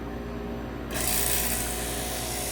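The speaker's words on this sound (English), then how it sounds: "You can hear the vacuum pump starts back up" A freeze dryer's vacuum pump kicks on partway through, a sudden steady hiss and hum that replaces the quieter mechanical drone and holds evenly.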